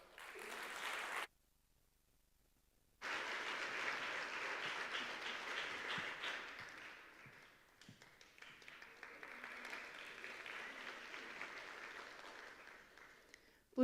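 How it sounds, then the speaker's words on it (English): An audience at a TEDx event applauds a young fiddle player: a brief burst of clapping, a short silent gap, then sustained dense applause that gradually thins and softens toward the end. "Please give a round of applause for Zoe Parker."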